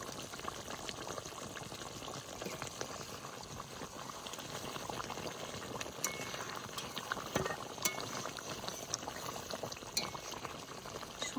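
Prawn malai curry simmering in a covered pan makes a faint, steady bubbling hiss, with occasional light clinks from the lid or pot and no voices.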